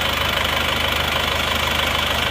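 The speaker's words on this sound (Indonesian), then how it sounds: "Yuk kita dengarkan suara mesinnya lagi. Suaranya halus dan rata." An Isuzu Panther diesel engine idles smoothly and evenly after repair, a steady close-up rumble with a fine regular knock-like pulse and no break or voices throughout.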